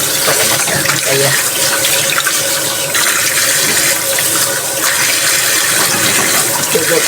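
Tap water runs steadily into a sink while vegetable shoots are washed under it in a home kitchen, a loud continuous splashing rush lasting throughout, with faint background voices.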